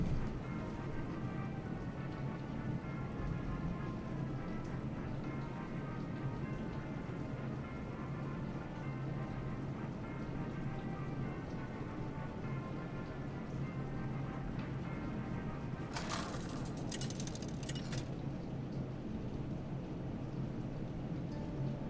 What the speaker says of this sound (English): The storm finally rolled in.